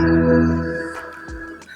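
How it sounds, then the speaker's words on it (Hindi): A GOVO GoLoud 660 party speaker plays its short power-on jingle, a Doordarshan-like tune of clear synthetic tones, close and alone, lasting under two seconds. "ऑन करने के बाद भाई दूरदर्शन वाला आवाज आता है।"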